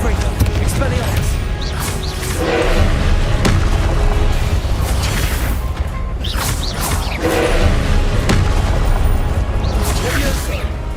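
Confringo fire-blast spells in Hogwarts Legacy, cast repeatedly with several loud booming bursts and whooshes spaced a few seconds apart over a continuous rumbling battle bed.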